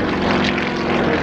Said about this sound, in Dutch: En u hoort die krachtige motor, hoe die werkt.